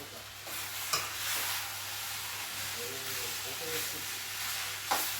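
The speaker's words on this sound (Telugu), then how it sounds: "ఇప్పుడైతే కలిపేస్తున్నా." A spoon stirs tomato rice seasoned with cumin-fenugreek powder in a pan, soft scraping under a steady sizzling hiss, with a couple of sharp clinks against the pan.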